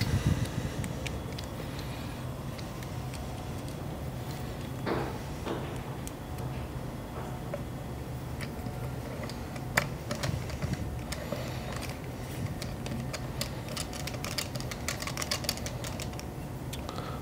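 Small screws are tightened into the burr carrier of a DF64V coffee grinder, giving faint, sparse metallic ticks and clicks against a steady low background hum, close and quiet with no talk.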